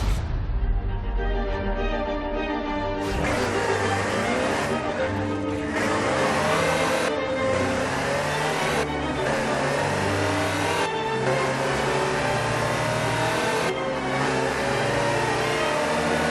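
Land Rover Type 3 utility vehicle engine in Forza Horizon 4, a mid-pitched motor revving and pulling through repeated gear changes, each climb cut by a brief shift, loud and close with some talk over it.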